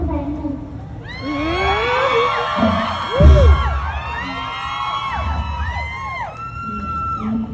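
Spectators at a likay folk-theatre show by the Rung Fa Kritsada Barami troupe whoop and cheer loudly, many shrill voices rising and falling over one another, with a brief thump partway through.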